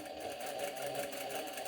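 A sewing machine stitches a skirt seam in a short, steady burst, its fast rhythmic needle chatter close and even throughout, with no talking.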